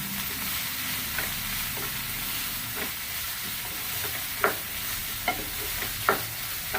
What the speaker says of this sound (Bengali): দেওয়ার পরে এখন একটু সুন্দর করে ঢেকে দিয়ে সুন্দর করে একটু নাড়িয়ে চাড়িয়ে তারপরে ম্যাগিটাকে ঢেলে দেবো